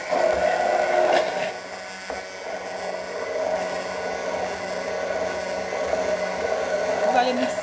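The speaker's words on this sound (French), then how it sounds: "Vous mettez et puis vous allez mixer." A blender whirs steadily as it mixes a homemade makeup remover milk, a continuous motor drone that surges slightly at the start and near the end.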